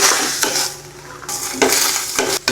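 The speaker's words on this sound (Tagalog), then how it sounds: "Haluin." Igado, pork and liver pieces sautéing in a pan, sizzles while a utensil scrapes and clinks against the metal in brisk stirring strokes, heard close up with no talking.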